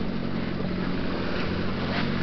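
A sailboat's starboard engine running at 2,000 RPM at night at sea, a loud steady droning hum with constant low throb and wash, unbroken throughout.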